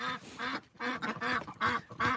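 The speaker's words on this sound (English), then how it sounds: "the duck is just chilling right in the water having a bath" A homestead duck sitting in water in winter lets out a series of close, raspy quacks in short rhythmic bursts, with no talking around it.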